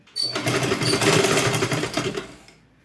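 A sewing machine stitches fabric ruffles in one continuous, fast, close whirring run of nearly three seconds, starting abruptly and tapering off at the end.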